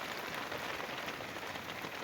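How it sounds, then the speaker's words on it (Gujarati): Steady rain pours over a farm field near Sihor, Bhavnagar, a dense, even hiss of drops on surfaces holding constant throughout with no voices. "જો આપણે વાડીમાં હવે વરસાદ શરૂ થઈ ગયો છે"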